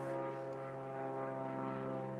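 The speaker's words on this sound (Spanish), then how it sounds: "Cada vez que me pongo acá, pasan esos aviones." Airplanes passing overhead, a steady droning engine rumble with a sustained tonal hum, fairly faint and continuous, no speech.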